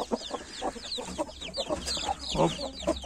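Young turkey chicks being let outside for the first time give a busy, continuous chorus of soft clucks and peeps, close by and overlapping throughout.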